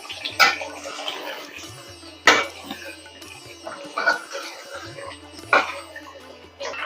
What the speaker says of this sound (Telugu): అంటుకోకుండా కలుపుతున్నానండి.